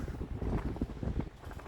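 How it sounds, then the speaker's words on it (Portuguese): Strong wind gusts blow outdoors near trees at a rooftop solar water heater build, heard as a steady low rumbling buffet on the microphone with uneven swells and no speech. "Então e olha que tá ventando,"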